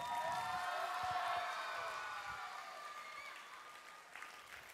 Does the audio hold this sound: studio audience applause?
yes